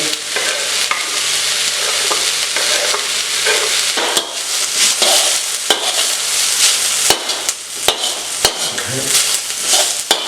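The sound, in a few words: garlic frying with shallots and lemongrass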